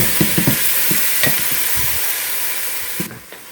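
Ground beef and onions fry in a pan with a steady hiss and sizzle, broken by several short scraping stirs of a utensil, close and fairly loud, with a sudden drop in the sizzle near the end.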